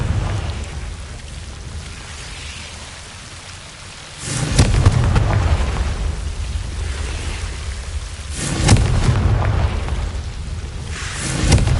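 Confringo blasting spells in Hogwarts Legacy go off as three heavy booming explosions with rumbling bursts, spaced a few seconds apart over a quieter ambient game background.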